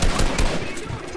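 Loud pump-shotgun blasts from a video game fire in quick succession, dense and booming and crowding one another.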